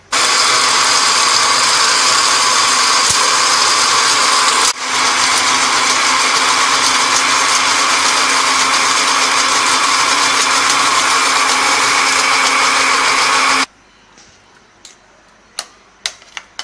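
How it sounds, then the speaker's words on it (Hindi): An electric kitchen grinder blends green chutney with a little water, a loud, steady high-pitched motor whir that runs for about fourteen seconds with one brief dip before stopping abruptly, followed by a few faint clicks. "अब हम इसे ग्राइंडर में पीस लेंगे।"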